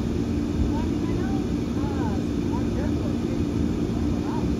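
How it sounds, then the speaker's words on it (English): A large airplane roaring near an air base after landing, a loud continuous broadband rumble of jet engines that holds steady throughout, with someone speaking over it. "And that was a big ass plane that just landed."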